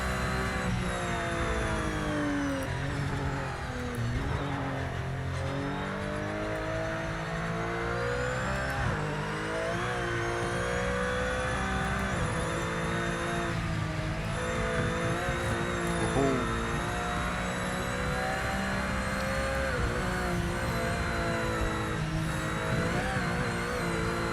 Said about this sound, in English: I do think the Porsches sound Porsche.